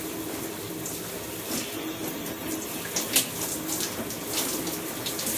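Hot shower water runs steadily while hair is rinsed, a soft continuous spray with a few faint splashes.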